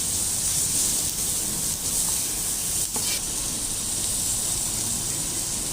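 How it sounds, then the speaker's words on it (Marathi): Crushed green chillies and garlic fry in hot oil for baingan bharta, a steady close sizzle and hiss throughout with a faint scrape of stirring partway through. "हिरवी मिरची आणि लसूण आहे ते घालूया। छान परतून घेऊ।"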